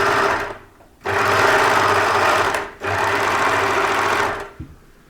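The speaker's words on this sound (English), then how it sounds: "So you either do that with the sewing machine" An overlocker serger runs in two sustained bursts of machine stitching on a cardigan seam, the motor whirring steadily with a short pause between them, close and fairly loud, with no talk.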